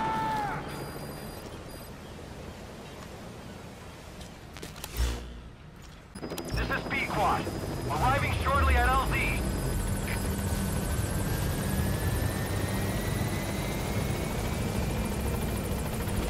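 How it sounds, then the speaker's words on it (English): A helicopter arrives in Metal Gear Solid V: The Phantom Pain, its rotor drone building to a loud, steady roar that fills the scene after a brief quiet moment, with radio chatter and game effects over it. "Go ahead and call the chopper from your iDroid."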